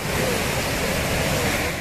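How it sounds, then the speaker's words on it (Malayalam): Water gushes out of a burst municipal Water Authority supply pipe, a dense, continuous hiss and roar at constant loudness for a brief moment, with no voices. "വാട്ടർ അതോറിറ്റീൻ്റെ പൈപ്പ് പൊട്ടിയിട്ട് പൂക്കുറ്റി പോലെ"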